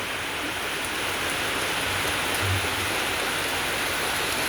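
Heavy rain pours down steadily in St Thomas, a dense continuous hiss of falling water with no breaks and no voices, loud and close throughout.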